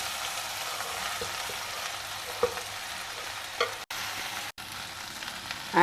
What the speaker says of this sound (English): When the dal becomes a brownish color, now add in this chopped bhindi to it.